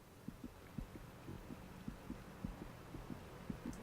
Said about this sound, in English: How can they not hear my heart beating